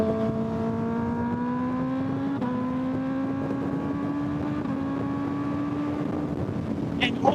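A 2025 Kawasaki ZX6R with a quick shifter rides in the evening, its engine whine climbing steadily in pitch with two crisp, near-instant gear changes, all under heavy rushing wind.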